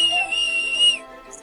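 A single sustained, shrill whistle blast lasting about a second, loud and clear, then cut off, with a brief faint chirp afterward.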